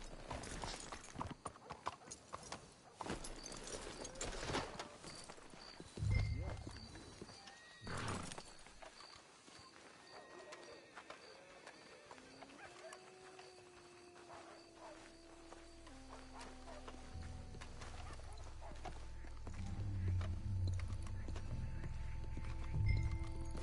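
Horse hooves clip-clop at a walking pace in the video game Red Dead Redemption 2, with a horse whinnying, amid quiet ambient background sounds.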